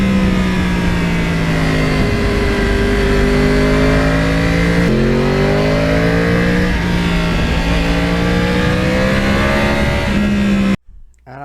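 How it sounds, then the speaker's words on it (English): A Yamaha R1 crossplane motorcycle with its stock exhaust growls loudly and close while riding through a lake area, its engine note rising and falling through several gear changes and revs before cutting off abruptly at the end. "the stock system really has a nice growl once you get over about 10 grand"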